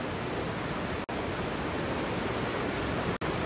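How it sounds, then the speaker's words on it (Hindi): Dhangar waterfall near Badlapur flowing steadily, a broad even rush of falling water with no break in its roar, close and constant, with two brief dropouts in the recording. "देख सकते हो यहाँ पे ऐसा वाटरफॉल का फ्लो है"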